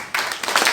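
A congregation at a church gathering breaks into brief, sharp clapping, a quick burst of several hands struck close together.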